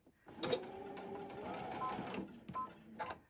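A sewing machine stitching fabric strips for a quilt assembly runs in short close bursts, a steady mechanical whir that stops and restarts briefly near the end.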